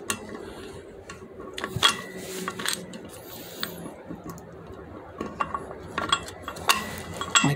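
Metal tool clicks, ratchets and scrapes against a wheel bearing race and nut while a failed wheel bearing is being replaced, in a close, irregular series of sharp clanks with no talking.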